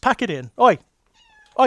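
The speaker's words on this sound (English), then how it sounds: "That's my cat, and she's having a go at another cat outside." A cat lets out a loud, drawn-out yowl between bursts of a person shouting, then a thin, wavering cry trails off in the background.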